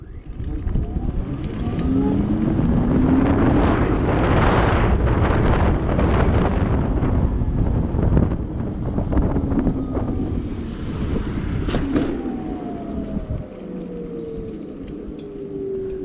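A Simple One electric scooter pulls away at full throttle, its rising motor whine nearly buried under loud, continuous wind rush and buffeting that holds steady for most of the ride and eases toward the end.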